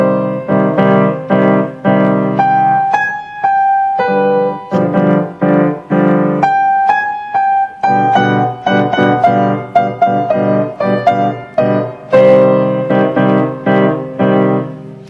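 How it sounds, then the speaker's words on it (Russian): Tango melody picked out by ear on a grand piano, with the left hand adding harmony, played alone as clear repeated chords and phrases with short pauses between them. "А я в отсутствие мамы с удовольствием подбирала на рояле всякую музыку."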